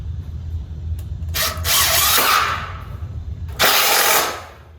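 A power drill whirs in two bursts, each ramping up and grinding as a self-tapping screw drives into a galvanized steel raised garden bed, close by, with a brief quiet pause between.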